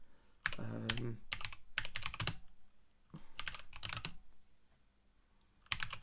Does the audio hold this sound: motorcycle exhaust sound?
no